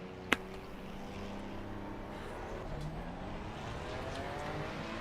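Race car engine in a racing video game at the Nürburgring, a faint, steady droning whine with shifting tones as the car drives on, opening with a single sharp click.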